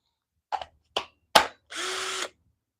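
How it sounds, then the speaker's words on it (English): Three short, sharp bursts from a power drill, then a longer steady whir of the bit biting into wood during woodcarving, close and alone. "hitting this sucker with the drill bit"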